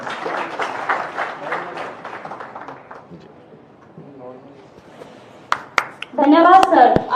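Audience applause at a Congress party event in Jaipur, a burst of dense, fairly close clapping that gradually thins and fades over several seconds before someone begins speaking.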